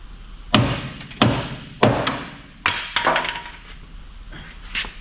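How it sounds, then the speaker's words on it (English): About six sharp metallic hammer blows on a stuck front strut of a 1998-2002 Toyota Corolla strike at uneven intervals, each ringing briefly, with no talking. "This is where your hammer may come in handy."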